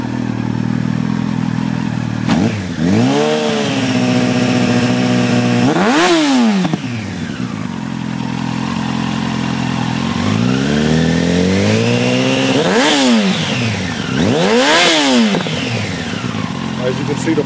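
A Yamaha R1 motorcycle warming up after a cold start idles with a loud, close rattle, blipped by several sharp revs that rise and fall, and a voice speaks over it.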